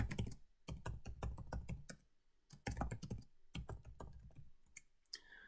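A password typed on a computer keyboard, as two close bursts of quick key clicks separated by a short pause, with no talking.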